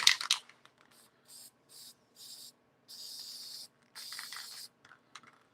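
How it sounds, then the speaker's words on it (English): Several short hissing bursts of spray onto the back of a woodturned piece, spaced a moment apart, with the last two held longer, following some clattering handling noises. "let me just spray the back of this real quick"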